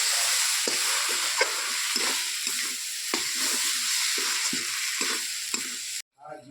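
A ground paste of spices and green chili fries in a pan for a mutton and potato curry, a constant sizzle broken by repeated scraping stirs in an irregular rhythm before it cuts out abruptly near the end.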